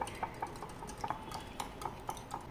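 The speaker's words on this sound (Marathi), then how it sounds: "4 अंडी आता थोडीशी आपल्याला ही फेटून घ्यायची आहेत" Four eggs beaten in a bowl with a utensil, a quiet, regular series of light clinks and taps against the bowl at a brisk, even pace, close up with no voices.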